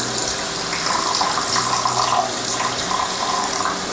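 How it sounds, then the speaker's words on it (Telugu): Boiled and cooled milk pours steadily into a pan of bottle gourd halwa, a continuous liquid splashing and trickling that stays fairly loud and even throughout, with no talking. "ఈ స్టేజ్లో మనం కాచి చల్లార్చుకున్న పాలు వేసేసుకుందాం"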